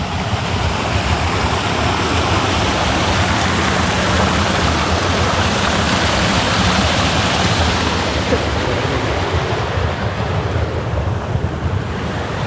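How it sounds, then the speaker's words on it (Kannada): Water falling at a canal water bridge near a coconut farm: a loud, constant roaring rush of water, steady throughout, with some wind buffeting the microphone and no talk. "ಇಲ್ಲೇನೋ ನೀರು ಬೀಳೋ ಸೌಂಡ್ ಕೇಳ್ತಾ ಉಂಟು"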